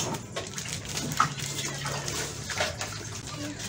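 Water pours steadily into a container, 10 liters for making dishwashing liquid, a continuous close splashing gush with faint background sound.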